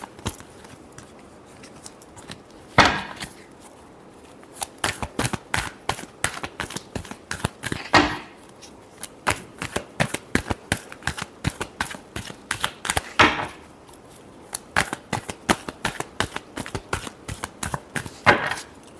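Tarot cards being shuffled on a table in a steady run of crisp, riffling bursts and taps, close and fairly loud, with a few heavier flurries spread through the stretch and no talking.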